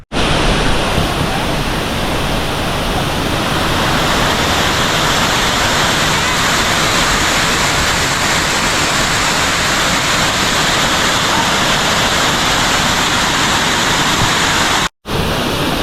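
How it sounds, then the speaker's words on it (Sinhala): Baker's Falls on Horton Plains roars as a loud, unbroken wall of rushing water, close and steady throughout, with no voices over it. "මෙතන ටිකක් වතුර සද්ද වැඩි."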